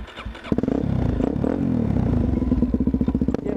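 A dirt bike engine runs close by with a rough, rapid, pulsing exhaust beat that holds steady before settling into slower chugging pulses.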